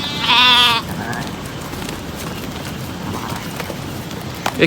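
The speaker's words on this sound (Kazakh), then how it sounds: "Қозылар қараңыздар, қозылары дағы жақсы." A single loud lamb's bleat rings out up close at the start, followed by quieter farmyard ambience with faint shuffling.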